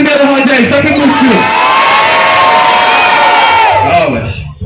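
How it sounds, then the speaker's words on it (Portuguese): A crowd at an outdoor rap battle in Santo Amaro roars and cheers after the first round, a dense, loud wall of shouting and whooping that fades out at the end, with an MC's voice mixed in. "Faz muito barulho pro primeiro round aí"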